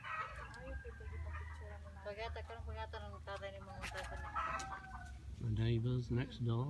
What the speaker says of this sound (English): The sound of chickens.